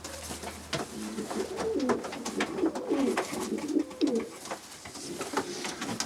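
Medium-sized pigeons coo close by in repeated soft, rolling calls, with faint rustling and background noise underneath.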